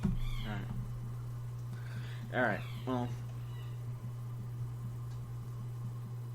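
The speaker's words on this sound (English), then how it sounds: "I'm trying to see if the cat's gonna keep meowing." An indoor cat meows several times, a short call near the start and two more close together midway, over a steady low hum, with a few brief spoken words.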